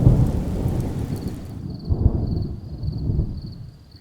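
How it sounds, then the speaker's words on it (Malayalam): Heavy rain with thunder: a deep rumble of thunder rolls under a dense hiss of falling rain, the downpour loud at first, then easing slightly, with a faint high electronic tone appearing midway. "നല്ല മഴയാണല്ലോ"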